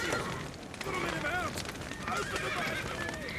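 Horses whinny and neigh in the video game Witcher 3, their calls rising over a dense, noisy scene with galloping hooves and a voice speaking.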